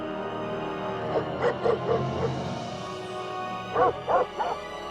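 A dog in the video game Nancy Drew: Ghost Dogs of Moon Lake gives two short pairs of barks, moderately loud over a low, steady ambient game backdrop.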